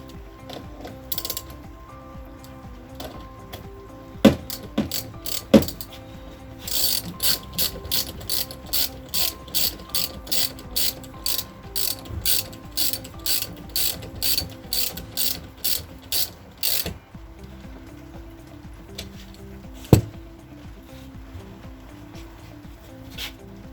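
A ratchet and socket working on the lower tailgate of a Range Rover L322, a long, steady run of rapid, evenly spaced mechanical clicks with a few heavier knocks, close and clear with no talk.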